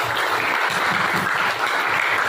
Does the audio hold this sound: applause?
yes